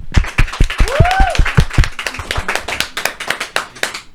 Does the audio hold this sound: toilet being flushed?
no